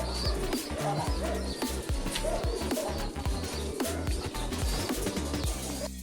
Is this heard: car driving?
no